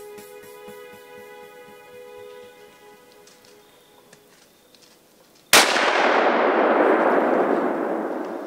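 A single loud rifle shot cracks out during a deer hunt from a tree stand, abrupt after a quiet stretch of faint outdoor ambience, with a long rushing decay that fills the rest of the moment.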